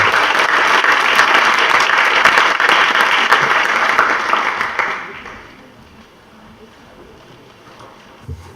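Sustained audience applause for a panel at the close of a science and diplomacy symposium session, dense and even clapping from a large hall that fades out after about five seconds, leaving quiet room tone.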